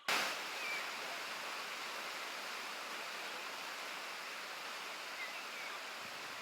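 The Aek Batu Manarus waterfall in North Sumatra rushes in a constant, even roar of falling water with no other sounds.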